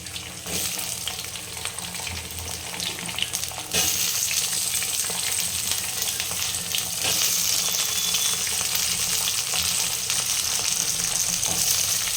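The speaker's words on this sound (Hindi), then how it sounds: "अब इसमें हम आलू डाल देंगे।" Potatoes tumble into a pan of golden fried ingredients, set for a potato and bori sabji, and a loud, steady sizzle of frying rises sharply and continues close up with no talk.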